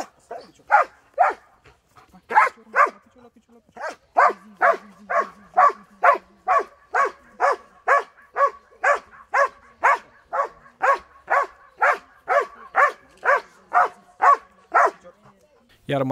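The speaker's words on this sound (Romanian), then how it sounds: "Câinele Gorun de la ISU Botoșani le-a făcut o demonstrație" A fire rescue dog from the Botoșani emergency service barks during a demonstration for schoolchildren, giving about two dozen loud, evenly spaced barks in a steady rhythm close by.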